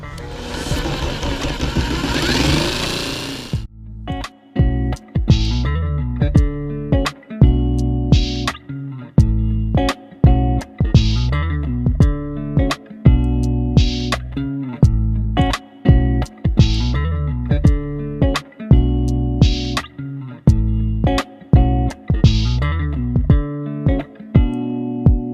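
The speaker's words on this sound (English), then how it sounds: "so I'm going to be using a jigsaw." A jigsaw cuts through the grille of a 2005-2009 Mustang GT in loud, harsh bursts, starting and stopping repeatedly with short pauses between cuts, after a brief opening noise.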